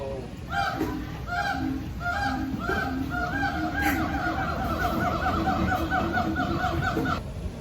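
Monkeys at Disney's Animal Kingdom call out in a long run of rhythmic, honking, hooting cries that rise and fall continuously, moderately distant over light outdoor ambience.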